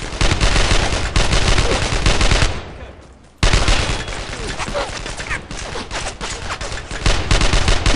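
Sustained machine-gun fire from Brothers in Arms: Earned in Blood hammers away loud and close in continuous bursts, dropping out briefly around the middle before the rattling resumes just as heavily.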